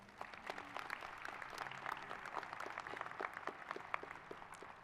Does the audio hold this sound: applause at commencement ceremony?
yes